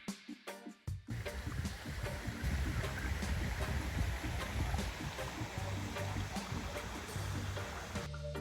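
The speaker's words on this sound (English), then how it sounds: "The weak stream makes me wonder how it would look when there's more water flowing downstream." Gentle flowing stream in hilly countryside, a soft continuous wash of water with a low rumbling undertone, steady and moderately near after a brief opening of sharper knocks.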